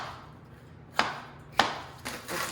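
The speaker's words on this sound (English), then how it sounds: "I'm just chopping these into kind of bigger sized chunks" A knife chops garden chili peppers into chunks on a cutting board, two sharp close knocks followed by a softer third stroke, with quiet pauses between.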